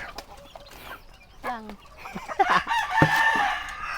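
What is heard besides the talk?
chicken clucking and rooster crowing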